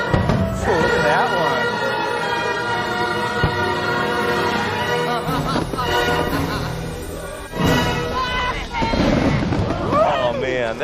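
A fireworks show at Walt Disney World sets off several sharp booming bursts over a steady bed of loud music, with a crowd's voices mixed in throughout.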